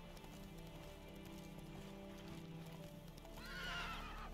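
In the video game The Witcher 3: Wild Hunt, clopping hooves rumble under a low steady drone, then a horse whinnies loudly near the end, rising and fluttering over the background.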